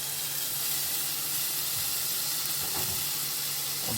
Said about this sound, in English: Now I'm going to add a little bit of crushed garlic.